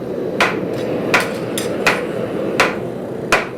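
A hammer, working on its own, strikes five times at an even, unhurried pace, each blow a sharp, close metallic knock over steady background noise.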